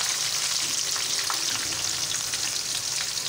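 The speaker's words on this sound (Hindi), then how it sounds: "हम इस ऑयल में डालेंगे, ये ऑयल हमारा गरम है अभी, इसमें हम डालेंगे दरमियाने साइज़ की प्याज।" Medium-sized onions are frying in hot oil, giving a steady, dense crackling sizzle that stays close and even throughout.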